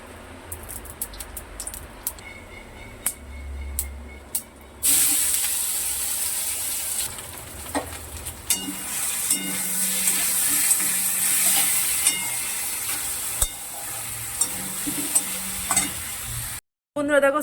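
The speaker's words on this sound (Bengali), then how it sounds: "এবার তেল দেবো।" Mustard seeds and oil sizzle loudly in a wok for an ambarella chutney, a steady close frying hiss with scraping stirs; a quieter stretch of clinks and handling comes first, then a brief pause near the end.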